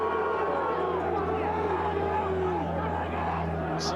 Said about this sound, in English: boos ringing all around this ground